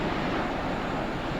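Ocean surf on a beach in Mexico, a steady broad wash of breaking waves with wind noise, continuous and fairly loud with no voices.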